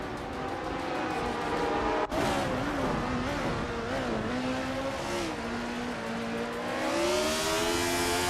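Race cars roaring through a racing video game, engines droning loud and continuous with rising and falling pitch as they shift and accelerate, one brief dropout partway, no talk.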